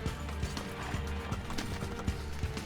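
Horse hooves clip-clopping in the Assassin's Creed 2 video game, a steady rhythmic trot of hoofbeats on a hard surface at moderate distance, over a faint ambient background.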